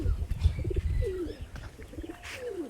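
A flock of pet pigeons cooing close by, overlapping throaty rolling coos in short bursts mixed with rustling, a few higher chirps and whistles scattered between them.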